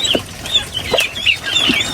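Free-range chickens and turkeys on a farm cluck in short, repeated calls, close and fairly loud, with no talk over them.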